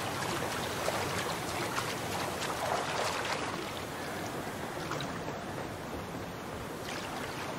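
A waterfall in Star Wars Outlaws: a steady, dense, broadband rush of falling water, loud and continuous throughout with no pauses.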